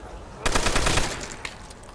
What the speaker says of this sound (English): I'm hearing another shot.